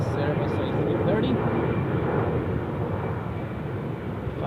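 A Swiss Airbus A330 departs from runway 6 at Zurich Airport, its jet engines a steady, loud broadband roar that holds throughout and fades slightly toward the end.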